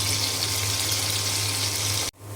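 Fish sizzles steadily in a frying pan after being turned to cook its other side, a dense continuous hiss close by that cuts off abruptly near the end.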